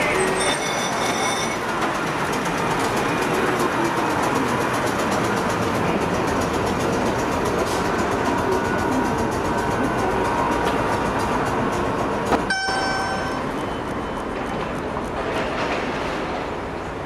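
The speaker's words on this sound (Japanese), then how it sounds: "土佐電鉄というですね、この高知を走る路面電車を撮ろうと思っています。" A short Tosa Electric Railway streetcar runs through Kochi near Harimayabashi with a steady, close rolling rumble for the whole stretch. Bright wheel squeals ring out briefly at the start and again near the end.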